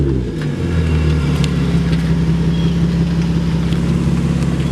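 A G35 coupe engine with a turbo revs loudly and close by, rising at the start and then holding a steady, heavy rumble throughout.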